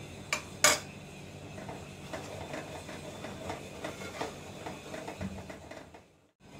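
A spoon scrapes and clinks against a pan as gram flour (besan) is stirred and roasted over a low flame, a steady, close scraping with occasional sharper metal knocks.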